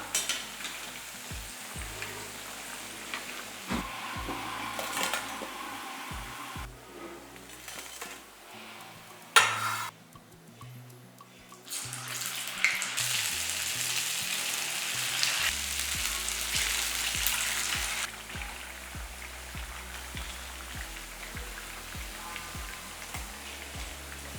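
Urad dal vadas, made without soda or raw rice, fry in hot oil with a steady soft sizzle and crackle, quiet and close, interrupted by occasional clinks and stirring, with no talking.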